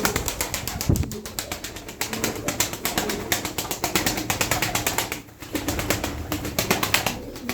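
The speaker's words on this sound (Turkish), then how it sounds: "11 tane kuş var" Eleven pigeons offered for sale flap and coo nearby, a dense, steady flutter of wingbeats with soft cooing and rustling throughout, fairly loud and close, with a brief lull near the end.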